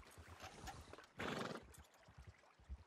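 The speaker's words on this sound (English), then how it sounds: "you spawn a lot of horses using this method" Horses in the video game Red Dead Redemption 2, with soft hoof clops and snorts around a loud, breathy whinny in the middle, fairly close, then quieter hoof sounds.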